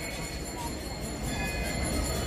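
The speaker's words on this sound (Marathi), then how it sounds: "आता ट्रेन बघा, ट्रेन आपली बघा, ही ट्रेन देशभर सगळीकडे जाते." A train passes close by on a single-track line in coastal Maharashtra, giving a steady, loud broadband rumble and rattle that holds for the whole stretch.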